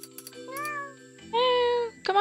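A cat meows in the video game Garden Paws, two clear drawn-out mews over a soft steady background tone, the second louder and longer.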